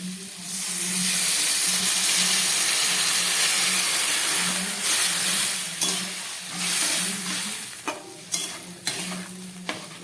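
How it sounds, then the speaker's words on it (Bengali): Water poured into a sautéed curry in a hot pan hisses and sizzles steadily, with repeated low stirring scrapes and a few sharp clatters toward the end, all without speech. "এবার আমি এর মধ্যে দিয়ে দিচ্ছি পরিমাণ মতো জল।"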